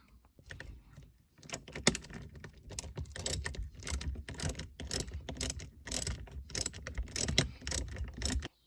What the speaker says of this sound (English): So now I'll go ahead and take the actual hex head bolt and run it down through there.